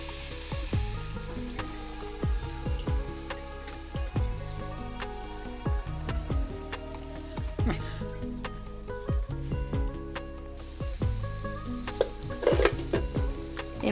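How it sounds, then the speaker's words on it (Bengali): Coconut-filled puli pitha fry in oil with a steady, bright sizzle broken by repeated scraping and clinking of a utensil against the pan, close and continuous, with no clear talk. "এভাবেই সবগুলো পিঠে আমি ভেজে নেব।"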